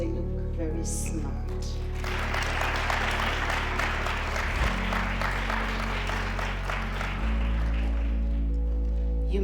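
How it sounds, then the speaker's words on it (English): An audience claps at a Namibian primary school gathering, a brief burst of applause that rises over a low electronic hum, with a voice speaking around it. "you should actually give them applause because they look very smart."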